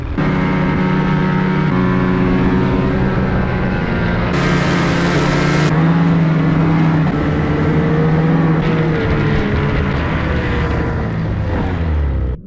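Snowmobile driving fast through wet, deep snow in rural Alaska, its engine droning loud and close with a steady roar, pitch rising and falling as it pushes on, no voices.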